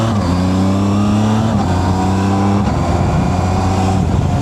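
Zontes 703F motorcycle engine pulling hard under acceleration, its steady loud drone rising in pitch with quick quickshifter gear changes breaking the tone around midway, close and continuous with no talk.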